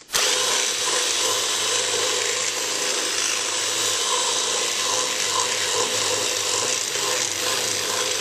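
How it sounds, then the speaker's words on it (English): A power drill whines steadily for several seconds as the bit widens a hole in a metal can, grinding into metal, loud and close with a continuous high buzz. "I'm just gonna move the drill bit in and out and around so we get the hole big enough"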